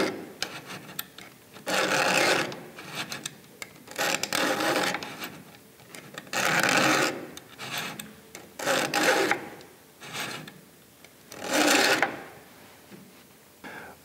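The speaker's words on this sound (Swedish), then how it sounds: "kosta på ett extra fildrag på ryttarens framkant" A hand file rasping on a chainsaw chain's metal depth gauge in several distinct, evenly spaced strokes, close and fairly loud, with short quiet pauses between them.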